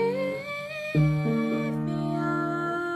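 Solo piano chords for the left hand of a song, sustained and clear, changing to a new held chord about a second in, with no voices.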